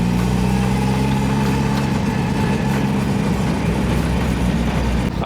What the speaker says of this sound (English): Looks like we got the idle set up properly this time